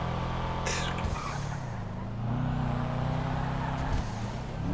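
A van engine in GTA 5 drones steadily and close, its pitch shifting as it revs up and eases off, with brief hissing bursts.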